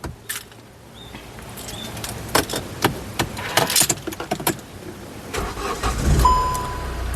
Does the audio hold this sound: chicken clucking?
no